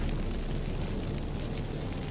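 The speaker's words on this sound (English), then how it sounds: "Get ready for some magic fireworks" Magic fireworks burst from activated incense in The Witcher 3, a dense, steady roaring rush of crackling noise that stays loud and unbroken throughout.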